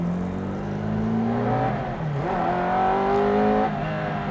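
A Ferrari 308 GTB Group B rally car revs up and pulls away from close by. The engine note climbs and dips as the revs build, loud and unbroken, with no talk.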